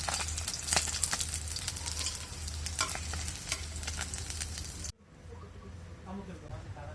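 Pabda fish frying in oil in a frying pan, a loud, dense sizzle with scraping stirs that cuts off abruptly, leaving quieter kitchen sounds.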